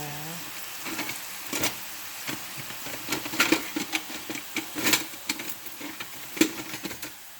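Wine poured into a hot pan after chicken roasting for a Tuscan cream sauce crackles and sizzles in uneven bursts, with intermittent pops and scraping clatters of a spoon against the pan, close and moderately loud.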